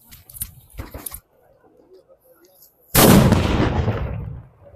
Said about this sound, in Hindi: भाई काफी हेवी हेवी आवाज है हम लोग का इन सब पटाखे का